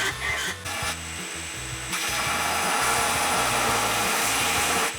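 Die grinder cutting away bulk on a replica part: a steady, loud high-pitched grinding rasp that runs continuously with slight dips in load, no talking.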